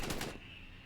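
Assault rifle fire in Ark Mobile: a quick burst of a few close shots at the start, then a ringing tail fading out.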